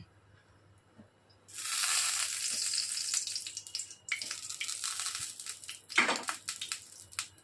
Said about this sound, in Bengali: তেলটা গরম হয়ে গেলে দিয়ে দিলাম সর্ষে, শুকনো লঙ্কা আর কারিয়া পাতা।